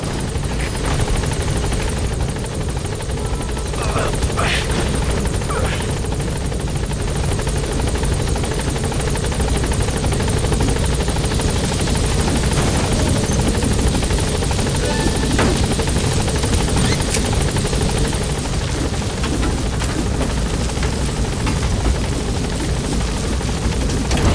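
A helicopter hovers near a landing zone in the video game Metal Gear Solid V, its rotor drone loud, steady and close throughout, with no speech over it.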